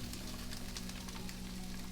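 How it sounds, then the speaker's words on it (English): Rinsed lentils tipped into a pan of sizzling garlic for a vegan Mexican dinner, giving a steady, moderately loud frying sizzle with a low hum underneath and no talking. "I'm going to add the lentils that were rinsed into my pan here now that the garlic is sizzling."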